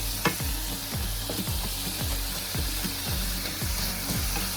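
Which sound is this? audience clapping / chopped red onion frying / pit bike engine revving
chopped red onion frying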